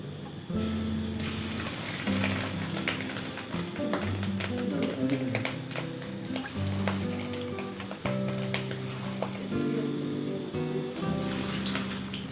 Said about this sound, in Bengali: কড়াইটা আমার গরম হয়ে গিয়েছে এখন আমি বড়াগুলো দিয়ে দিচ্ছি